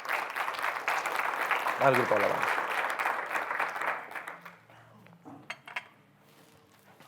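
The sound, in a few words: church congregation applauding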